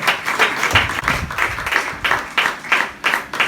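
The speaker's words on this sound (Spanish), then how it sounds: "Denle un aplauso a él, hermano" Applause at a Spanish-language church service, rhythmic clapping from a congregation rising in bursts, moderately loud and close, with a faint voice underneath.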